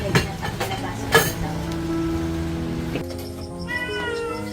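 A cat meows several times, loud and close, drawn-out cries over a steady tonal background hum with no talking, the cat having climbed up high.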